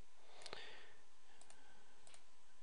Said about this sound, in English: let me right click indicators